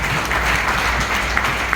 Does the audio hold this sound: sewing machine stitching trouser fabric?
no